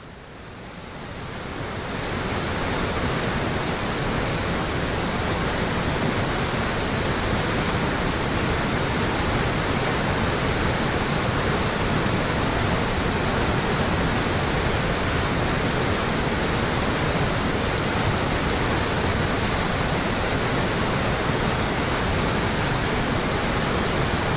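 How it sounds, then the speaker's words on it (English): Steady, thundering roar of a river waterfall plunging into a rock chasm, loud and continuous, building up in the first couple of seconds and holding without a break. "accompanied by a thundering noise as the river plunges into a rock chasm"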